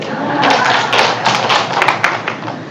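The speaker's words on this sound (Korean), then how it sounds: "우리 조장님 많이 해줄 거죠. 박수 한번 쳐드려." A small group of people claps for their group leader indoors, a brief uneven patter of hand claps and taps lasting a couple of seconds, close and fairly loud.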